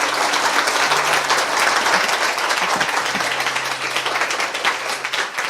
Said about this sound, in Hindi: आइए उस बीज के लिए ताली बजाएं।